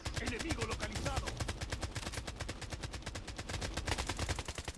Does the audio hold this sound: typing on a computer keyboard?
no